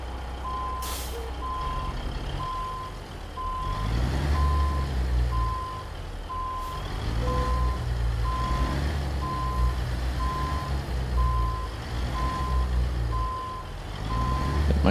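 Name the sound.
truck reversing with reversing beeps, American Truck Simulator video game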